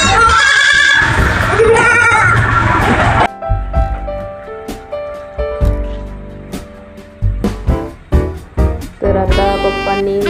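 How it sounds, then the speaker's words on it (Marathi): Baby goats bleating loudly and close, a dense overlapping chorus at first, then separate wavering cries spaced irregularly, at a farm where a cow and kid goats are being fed. "पप्पा गाईला व बकऱ्यांच्या पिल्लांना चारा घालत आहेत"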